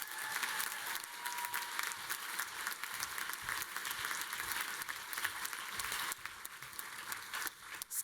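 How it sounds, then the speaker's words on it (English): An audience at a university honors and awards ceremony claps steadily in a sustained burst of applause, even and full, tapering slightly toward the end. "We applaud Maddie for her efforts"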